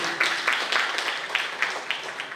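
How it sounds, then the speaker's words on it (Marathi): An audience at a lecture hall gives brief, fairly faint applause for a speaker, scattered claps coming in loose rhythmic bursts. "एकदा जोरदार टाळ्या त्यांच्यासाठी."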